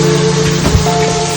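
Heavy monsoon rain in Gariadhar, Gujarat, a steady dense wash of broadband noise with low rumble, continuous and close throughout, no talking.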